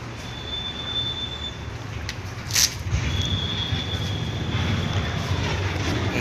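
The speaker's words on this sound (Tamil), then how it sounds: "ஃபேன் ஓடுது பார்த்தீங்களா," A steady whooshing hum of an electric fan running inside a lorry cab fills the space, with a brief bump partway through and no talking.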